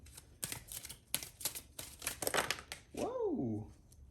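Tarot cards shuffled by hand in a run of crisp, papery riffling bursts, followed by a short rising-and-falling vocal exclamation near the end.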